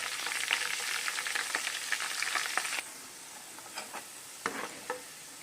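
Curry leaves fry in hot oil for an amla pickle, a dense crackling sizzle that thins out about halfway through into a softer hiss with scattered pops and spoon scrapes. No one speaks.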